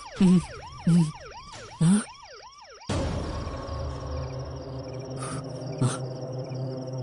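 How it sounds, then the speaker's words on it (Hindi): A police siren wails in quick rising and falling sweeps, with a few short low blasts, then gives way to a loud, noisy rumble of traffic. "उन पुलिस वालों से ज्यादा तो उनके सायरन से डर लगता है अपन को"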